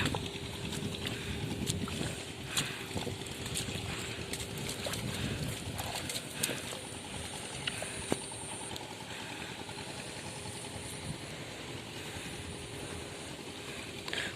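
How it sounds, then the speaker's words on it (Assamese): Steady broadband rain and gusting wind noise over a farm field fill the whole stretch, with scattered sharp taps and a faint low hum underneath. "বৰষুণ দি আছে, বতাহো মাৰি আছে।"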